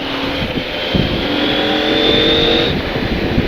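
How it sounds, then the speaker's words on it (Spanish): A CFMOTO 800MT Touring motorcycle engine revs and accelerates up close, a loud continuous roar with rising pitch, no talking. "Uf, cómo suena, tío, cómo suena esta moto."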